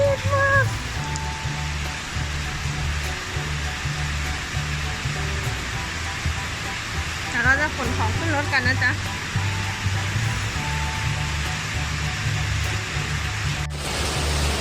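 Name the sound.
rain falling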